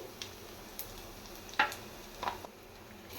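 Curry leaves and garlic paste frying in a pan, a low steady sizzle broken by a few sharp utensil clinks and scrapes.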